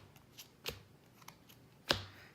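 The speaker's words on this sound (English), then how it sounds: "Deal 5 cards to each player." Playing cards being dealt for a tabletop game, a few quiet separate snaps and flicks of cards landing, with one sharper slap near the end, with no voices.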